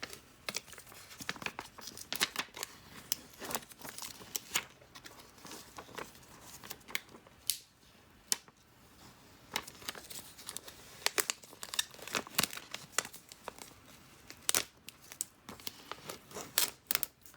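Heat transfer vinyl being peeled off its carrier sheet, a close run of crisp crinkling and tearing crackles with sharp irregular snaps and short pauses.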